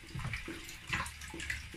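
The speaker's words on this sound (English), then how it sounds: "This is my final rinse." Tap water runs steadily for a final rinse of food while cooking at home in a kitchen, a soft continuous splashing with gentle surges, heard alone and fairly close.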